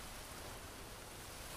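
Steady rain in the jungle survival game Green Hell, a dense, even hiss of falling water with no breaks, soft and fairly faint, with no voices over it.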